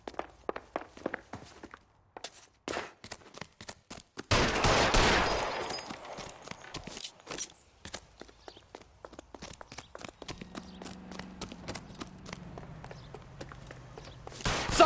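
L.A. Noire game audio carries scattered sharp pops and clicks, then a loud sustained burst of gunfire, followed by quieter crackling shots and a low rumble, all without talk.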